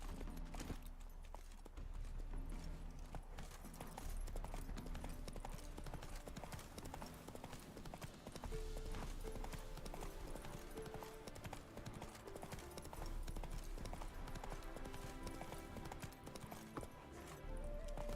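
Horse hooves clip-clop in a steady, quick rhythm while riding in The Witcher 3, layered over continuous in-game music and ambience, moderately quiet overall.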